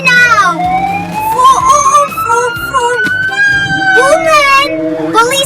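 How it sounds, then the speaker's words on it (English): Cartoon police car siren rising and falling in wee-woo sweeps over a bouncy children's song with sung vocals, loud and continuous throughout. "Police car! Flashing lights, red and blue."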